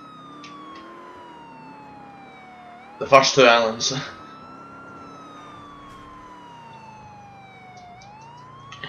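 Police car siren in Grand Theft Auto IV, a steady wailing tone rising and falling continuously across the clip, with a short burst of speech partway through.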